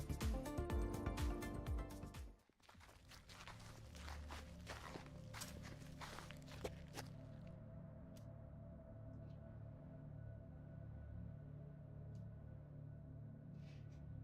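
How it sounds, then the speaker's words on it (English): A group of about ten people walks across a deserted wasteland in the game GFL2 Exilium, producing steady soft footsteps under a low ambient rumble after a brief loud passage at the start. "It is the sound of footsteps. Or, to be precise, the sound of 10 odd people walking together through this deserted wasteland."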